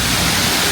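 An artificial waterfall built in Florence gives off a loud, steady wash of falling water with no break, heard up close.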